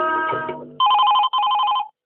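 An electronic telephone ring sounds twice in quick bursts for a caller on a Chhattisgarhi song request radio call-in programme, following the tail end of a song.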